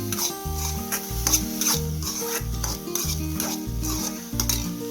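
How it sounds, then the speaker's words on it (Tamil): Ginger-garlic paste sautéed in a pan for chicken kola urundai, with a steady sizzle under repeated stirring and scraping strokes, close and fairly loud, backed by soft musical tones and no talk. "இஞ்சி பூண்டோட வாடை எல்லாம் போகணும், பச்சை வாடை. நல்லா வதக்கிடலாம்."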